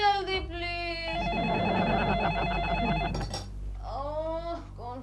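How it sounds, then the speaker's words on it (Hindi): A telephone rings in a home in the morning, with repeated electronic trill bursts that fill the middle of the clip alongside background sitcom music, and a voice briefly at the end. "ओह कौन फोन करता है सुबह सुबह?"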